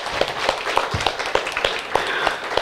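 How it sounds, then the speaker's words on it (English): A panel audience at a Seattle community forum on U District upzoning claps for the speakers, a close, uneven patter of separate hand claps at a brisk, steady pace. "can we give another round of applause to our panelists?"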